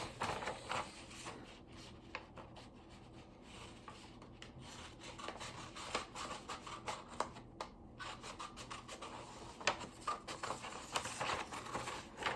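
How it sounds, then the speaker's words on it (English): Scissors snip through material while pieces for a rabbit hat are cut out, giving irregular close clicks and rubbing scrapes over a quiet background for several seconds, with no talking. "now we're going to cut these out using the scissors"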